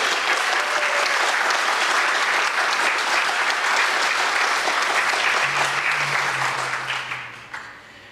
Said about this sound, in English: Let's give Ron a round of applause for all that he's done.